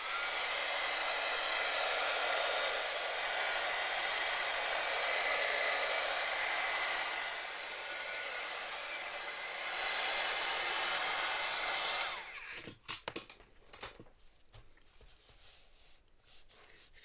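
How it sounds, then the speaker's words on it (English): A hair dryer blows steadily and loudly for about twelve seconds while drying glue on an old book craft, then cuts off, leaving scattered handling clicks and rustles. "Let's blow dry this so I can show you the tape."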